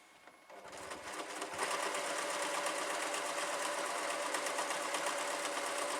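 A small domestic sewing machine with a 7-inch throat quilts a large quilt, starting up and then running in a fast, steady, loud rattling whir that continues without pause.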